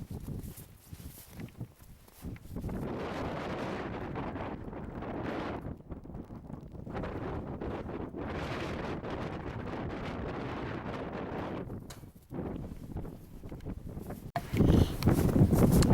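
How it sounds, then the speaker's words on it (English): Wind gusts roar across the microphone on the summit of Geal Charn, a Scottish hill above Glen Quaich, in long sustained buffeting waves broken by brief quieter lulls. "Shelter from the wind for the moment."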